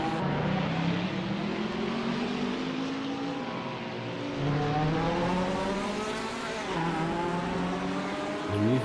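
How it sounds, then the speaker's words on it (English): Touring race cars, including a big Holden V8, roar past on a racetrack with loud, sustained engine drone and rising and falling revs as they accelerate and shift, heard without commentary. "here with a bit of sound from the cars"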